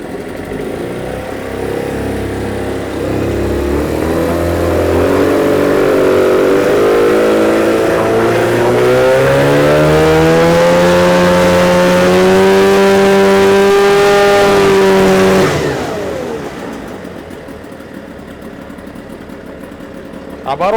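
A Suzuki DT6/DT8 outboard motor fitted with a Chinese carburetor runs loud and close, its pitch climbing as it revs up and holding high, then cutting off abruptly, with voices talking over the engine.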